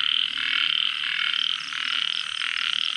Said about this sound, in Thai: เขียดโม่ครับ